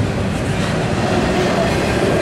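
Norfolk Southern 222, an intermodal freight train of double-stack container cars led by three AC44 locomotives, passes at CP Beaumont with a loud, steady, close rumble and wheel clatter that holds throughout with no talk.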